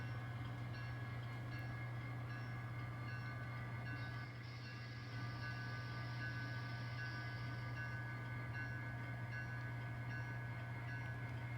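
An N scale model train runs along its track, a steady, continuous low mechanical hum with a faint whine that barely changes over the whole stretch.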